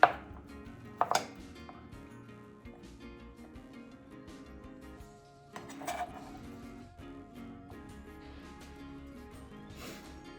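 A kitchen knife chops garlic in a few sparse, crisp strikes spread over several seconds, set against a steady low hum from a home kitchen.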